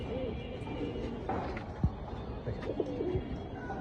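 Pakhi pigeons coo in a loft in Mirpur, Dhaka, with a male calling softly among them; low repeated coos sit under someone speaking nearby.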